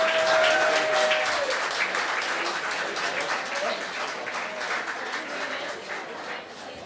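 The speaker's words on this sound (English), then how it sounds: "Give them a round of applause, folks" A crowd applauds steadily, clapping filling the space and slowly tapering off.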